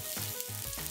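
Vegetarian meatballs deep-frying in hot oil give a steady, close sizzle, with faint low tones running beneath the continuous crackle.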